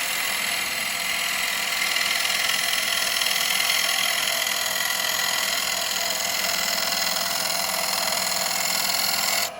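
A woodturning lathe spins a wooden bowl while a cutting tool shaves it, giving a continuous loud, steady whirring hiss with a rough scraping texture that cuts off abruptly at the end.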